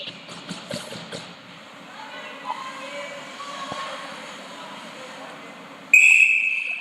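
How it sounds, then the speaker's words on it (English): A referee's whistle blows once, loud and shrill, to stop play at a high school hockey game between the Moorhead Spuds and Rochester Mustangs, sounding over rink noise and a commentator's voice. "we get a stoppage and whistle"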